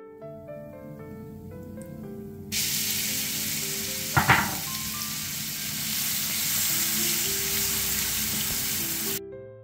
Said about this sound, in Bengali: সেম তেলেই আমি দিয়ে দেব দুটো শুকনা মরিচ আর তেজপাতা, আর দিয়ে দেব গোটা জিরে দিয়ে ভালোভাবে নেড়ে চেড়ে